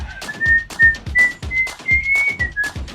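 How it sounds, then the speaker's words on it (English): A person whistles a steady high tune, clear and close, over a rhythmic series of low thumps, with no talking. "Sometimes people whistle"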